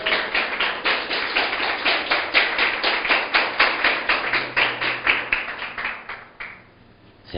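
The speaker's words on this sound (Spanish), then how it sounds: "Aplauda al Señor." A church congregation clapping in a quick, steady rhythm of sharp, close claps that carries on for about six seconds and then fades out.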